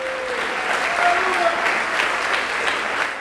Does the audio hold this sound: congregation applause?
yes